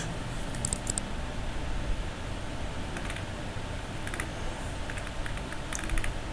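Computer keyboard keys are pressed in short clustered bursts of faint clicks during photo editing at a desk, with small pauses between the groups and no speech.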